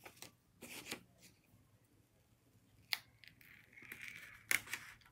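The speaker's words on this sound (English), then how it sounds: "you're just gonna cut on the line" Scissors snip paper along a drawn outline for a handmade pop-up card, a few short crisp cuts spaced apart in a quiet room, close to the microphone.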